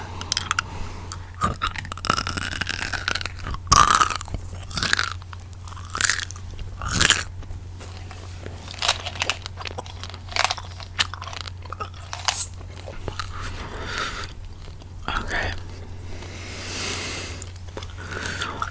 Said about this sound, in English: I'm gonna bust open some gum now.